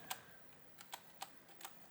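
A few scattered keystrokes on a computer keyboard click faintly and sparsely in a quiet room, with irregular gaps between presses.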